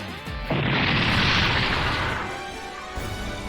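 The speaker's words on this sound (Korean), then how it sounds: "폭발? 여기서 좀 떨어진 것 같은데" An explosion in the video game Super Robot Wars 30 bursts as a heavy boom with a roaring blast that swells, holds for about two seconds, then fades back into the background.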